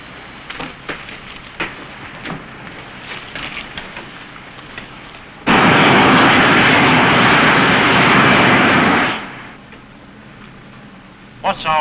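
A propeller aircraft engine roars loud and steady at about 2,100 RPM during a climb, arriving abruptly and cutting off after a few seconds, with talk before and after.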